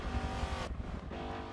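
Virtual 1971 AMC Javelin AMX muscle car with 330 horsepower is driven hard on a track in Forza Motorsport 7, its engine snarling loudly, then briefly cutting back on a gear change or lift before pulling again.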